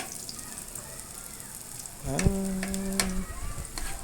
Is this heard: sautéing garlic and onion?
yes